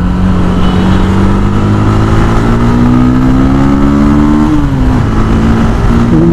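A Honda CB 250 Twister motorcycle accelerates up close, its engine note climbing steadily through the gears with a brief dip near the end, loud and continuous with no talk over it.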